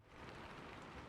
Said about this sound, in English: Outside, the rain continues, soft, steady, infinite.